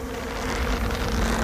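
Bees buzz in a cartoon, a dense, steady, loud insect drone that fills the whole moment on its own without any talking.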